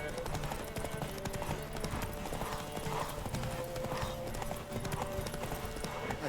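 A horse gallops in The Witcher 3: Wild Hunt with steady rhythmic hoofbeats and an occasional whinny, all under game music and a player talking over it.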